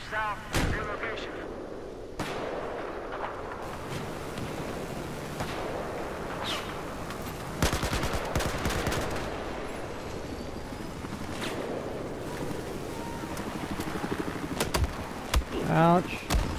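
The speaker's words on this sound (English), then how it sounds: "Let's go towards the gunshots." Repeated gunfire and heavy explosive blasts from the Battlefield 4 video game, sharp close shots and booming impacts scattered throughout over a constant battlefield din, with someone talking at times.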